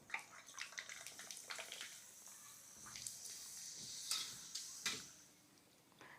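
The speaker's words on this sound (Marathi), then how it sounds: "तेल गरम करून घेतलेलं आहे आणि आपण पापडी तळून घेतोय" Sabudana papad pieces fry in hot oil, giving a steady crackling sizzle with sharper bursts of popping, heard up close with no talking.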